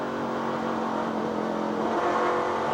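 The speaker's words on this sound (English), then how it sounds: "you heard Mike Bliss as he got back to the throttle" A 1997 NASCAR Truck Series racing truck at Topeka, accelerating hard back onto the throttle after downshifting into turn one, heard as a loud, sustained engine roar that keeps building through the clip.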